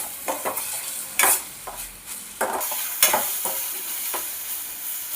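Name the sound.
stirring and frying curry leaves in oil for egg garlic curry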